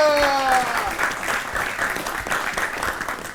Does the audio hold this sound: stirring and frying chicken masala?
no